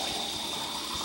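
Hot tap water gushing steadily into jars being readied for canning pomegranate jelly, a continuous close rushing flow with no pauses.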